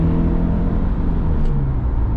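A car engine accelerates during a driving lesson, a steady close rumble building under the gas with no talk over it.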